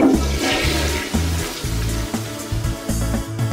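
A toilet flush rushes steadily for a few seconds, heard over a rhythmic, tuned backing track with repeating low notes.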